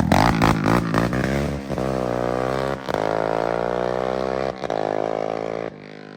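A Yamaha Raptor 700 ATV fitted with a loud aftermarket exhaust revs hard close by, its engine note climbing and falling through repeated throttle blips before settling into a sustained high rev, with no talk over it.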